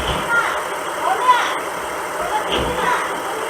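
A steady Kia Mohave SUV engine idles close by with a constant low rumble and hiss, its new Bosch electric fan running silently at lowest speed, and a voice talks over it.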